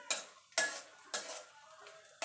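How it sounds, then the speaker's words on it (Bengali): Raisins being fried and stirred in a pan for semolina halwa, with four sharp scraping clatters of a spoon against metal and a soft sizzle between them, fairly quiet and close. "এবার কিশমিশটা দিয়ে দেবো। এবার ভেজে ভালো করে তুলে নেব"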